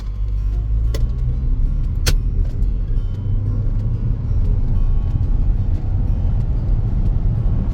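A 2026 Ford Territory Hybrid pulls hard from rest toward 100 km/h on a slightly uphill road, with a steady low cabin drone of engine and road noise and a couple of sharp clicks early on.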